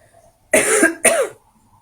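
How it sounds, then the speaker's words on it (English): A person gives two sharp, close coughs in quick succession inside a house, the room otherwise quiet. "I'm coughing."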